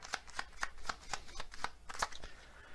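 Tarot-style Kipper cards being shuffled by hand, a quick run of about ten crisp riffling snaps in steady rhythm, close and fairly quiet with no talking.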